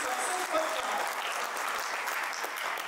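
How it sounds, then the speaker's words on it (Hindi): An audience at a company third-anniversary event applauds, with steady, dense clapping throughout, and a few faint voices underneath. "उनके लिए आप जोरदार तालियां जरूर बजाएं"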